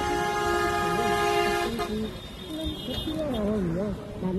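A car horn honks behind a bicycle on a cross-country Korean cycling trip, sustained steady tones in the first half, with voices speaking over and after it.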